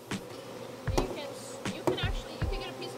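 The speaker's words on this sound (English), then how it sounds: "This is actually the smallest little cluster of bees." Bees in a small late-summer honey bee swarm cluster buzz faintly in the background, broken by several nearby knocks and handling thumps, with a voice briefly heard.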